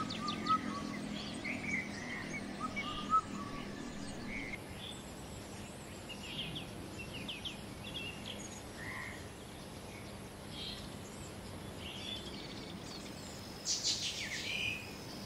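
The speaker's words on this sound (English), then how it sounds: "The bird song reaches a crescendo, filling the ear with an eternal chorus" Forest birds sing at twilight, scattered chirps and short calls rising here and there over a dense, steady bed of insect and frog chorus, mostly moderate to faint at a distance.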